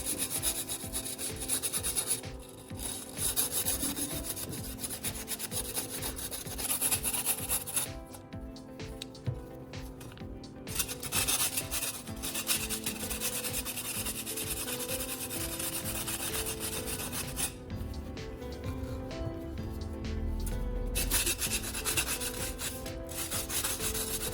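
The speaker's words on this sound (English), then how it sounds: "I switch to sandpaper and smooth all the surrounding edges" Steady, continuous rasping of sandpaper rubbed back and forth over the cut metal edges of an old electric kettle, close and fairly quiet, with a couple of brief pauses.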